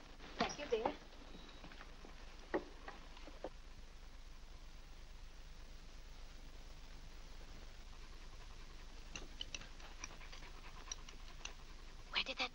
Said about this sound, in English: Where did that dog come from?